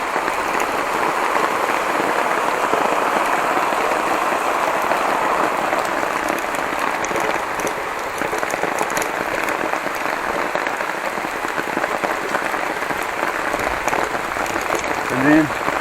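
Heavy rain falls with wind on a steep uphill route. The downpour makes a loud, dense, constant hiss that fills the whole stretch without letting up.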